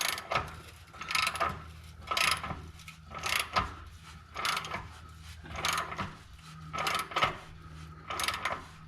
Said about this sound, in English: And we're going to put a wrench on it.